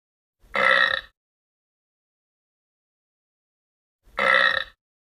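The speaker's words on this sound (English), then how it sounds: "The burp wink." Two loud, close burps in a burp contest, each about half a second long and separated by several seconds of silence.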